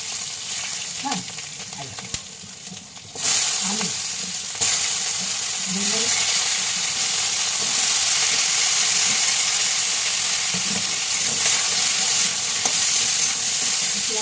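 Panch phoron, green chillies and dried chillies hit hot oil and sizzle loudly and steadily at close range. The hiss grows fuller partway through and occasional stirring clicks sound under it.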